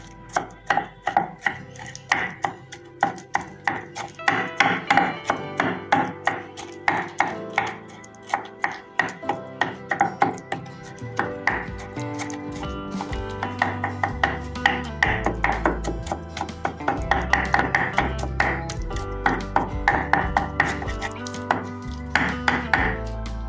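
A knife chopping fire-roasted eggplant on a board for a smoked eggplant-tomato bharta, with steady, close, rhythmic strikes that speed into quick runs. No one speaks.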